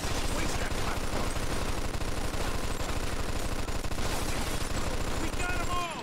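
Sustained automatic gunfire from a shootout in the video game Mafia 2, loud and close, with rapid shots hammering continuously for about six seconds before cutting off abruptly.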